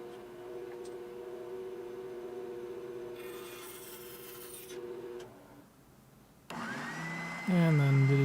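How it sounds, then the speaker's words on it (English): A spindle sander grinds against the wooden headstock of a custom seven-string guitar, giving a steady rubbing whir that pauses and dips before the motor note rises again near the end. "And then to do some more fine tuning of the headstock on the spindle sander."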